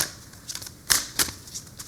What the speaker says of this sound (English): I'll shuffle the love cards as well